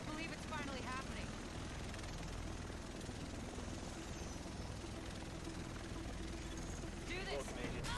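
A helicopter arrives in the video game The Division, its steady rotor and engine drone filling the whole stretch as a loud continuous roar, with a voice talking over it and brief chirping game effects at the start and end.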